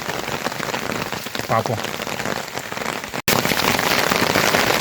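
Heavy rain pours steadily on a walking pilgrimage from Kodaikanal to the Thandikudi Murugan temple, a dense, loud wash of drops with a brief voice over it and a short break near the end.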